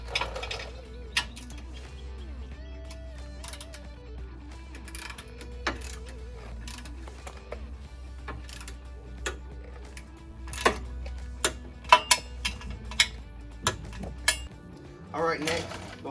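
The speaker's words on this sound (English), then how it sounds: "you'll take your 14 millimeter and torque these down to 45 foot-pounds" A ratchet wrench tightens 14 millimeter bolts on a Rusty's Xtreme trail front bumper, with scattered clicking ratchet strokes and tool clatter across the span.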